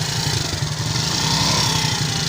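A motorcycle engine runs steadily close by, with a low, rhythmic pulsing idle that holds at an even loudness throughout, and nobody speaks.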